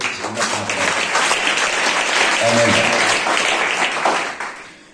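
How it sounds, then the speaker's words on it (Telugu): A church congregation claps together during a Sunday worship service, a dense, steady wash of many hands that holds loud for about four seconds and then tails off, with a low hum of music or voices underneath. "అందరూ చప్పట్లు కొట్టండి"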